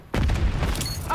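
Gunfire in the video game Black Ops 6: a heavy, booming burst that rolls on for about a second, with a voice speaking over it.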